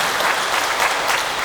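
Short burst of audience applause during a retreat talk at a Catholic gathering, many hands clapping close and fairly loud for a moment with no speech over it.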